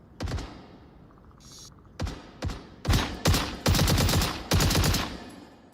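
Gunfire in the VR shooter Onward during a competitive match: loud, close bursts of automatic fire, starting with short isolated shots and building into longer rapid volleys, with a faint mechanical click between bursts.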